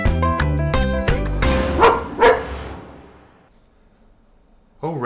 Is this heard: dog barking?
yes